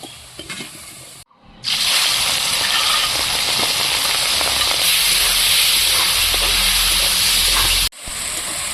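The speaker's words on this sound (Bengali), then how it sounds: "এবার এই তেলেই আমি মাছটাও ভেজে নেব" Fish drops into hot oil already used for frying jackfruit and potatoes, setting off a sudden loud sustained sizzle and hiss that cuts off abruptly several seconds later.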